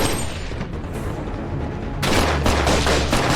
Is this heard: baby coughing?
no